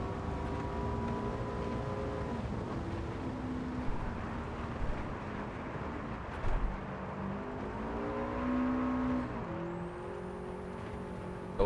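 A Subaru Impreza in Gran Turismo 7, driven without traction control, holds a steady engine drone with tonal harmonics, shifting pitch through gear changes and rising revs, heard close and continuous with light tire and wind noise.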